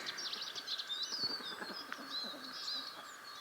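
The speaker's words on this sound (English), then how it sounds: "the song of the birds" Several birds chirp and sing together at a distance on a rural Swedish homestead in mid-March, a bright busy chorus of early spring birdsong with occasional soft cooing underneath.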